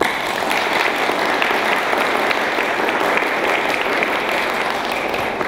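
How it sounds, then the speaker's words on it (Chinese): A hall audience applauds a Paralympic powerlifting bronze medalist at a reception, giving loud, sustained, dense clapping that continues steadily throughout. "请大家为他鼓掌一下。"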